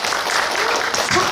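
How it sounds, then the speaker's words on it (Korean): Audience applause at a national youth climate change debate contest, a short burst of dense clapping filling the hall with steady loudness, brief and continuous with no pause. "박수 부탁을 드리겠습니다"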